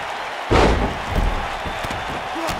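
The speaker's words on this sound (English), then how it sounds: "Side slam!" Side slam in the WWE 2K19 wrestling video game, one heavy thud on the mat followed by a smaller thump and crowd murmur, with arena ambience continuing underneath.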